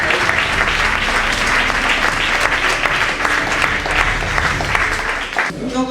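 An audience at a Durban book launch applauds warmly, with loud sustained clapping and crowd noise filling the room, and a voice cuts in near the end.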